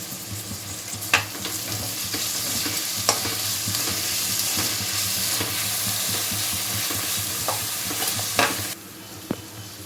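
Onions sizzle in a pan for a gooseberry curry, a steady close frying hiss broken by a few scraping stirs of a spoon, with no one speaking.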